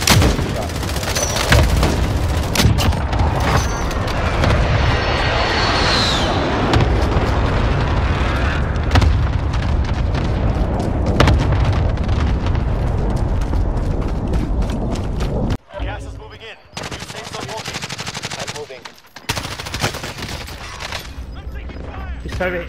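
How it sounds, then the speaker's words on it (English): Allied precision airstrike explosions thunder in Call of Duty Warzone, a dense barrage of loud booms and crackling blasts rolling continuously for about fifteen seconds, then briefly dropping out before scattered further impacts, with voices talking over parts of it. "Allied precision airstrike is..."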